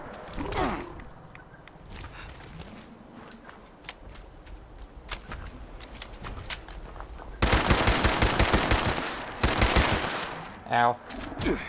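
Heavy gunfire from an explosive pipe rifle in Fallout 76, mostly sporadic shots that swell into a loud, dense burst of rapid explosive rounds near the end, with game ambience and faint footsteps beneath.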